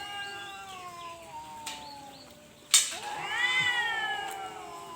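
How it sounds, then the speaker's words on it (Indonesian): Cats fighting over a female, with drawn-out rising and falling yowls and caterwauls, one sharp loud screech midway, then louder overlapping wails from close by, with no talk. "Ini kucing memperebutkan satu cewek."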